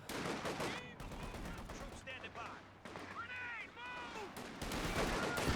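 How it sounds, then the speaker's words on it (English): A .50 cal machine gun fires in a video game battle, heard as bursts of rapid gunfire under a commentator's excited talk that dominates the clip. "the vital 50 cal is opening up"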